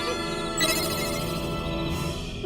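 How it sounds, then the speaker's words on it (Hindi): A mobile phone ringtone plays, a steady electronic melody of sustained tones that continues throughout at moderate volume, with no talking over it. "मोबाइल की रिंगटोन सुनाई दे रही है"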